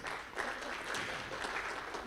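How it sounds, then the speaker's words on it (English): Audience applause in a conference room at a technology and cybersecurity summit, a steady dense wash of many hands clapping throughout, moderately loud with no pauses. "Round of applause"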